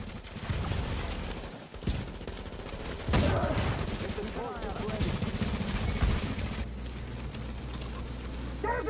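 Gunfire in The Division's Dark Zone: dense bursts of automatic fire and single shots rattle almost continuously, loud and close, while players talk over the shooting.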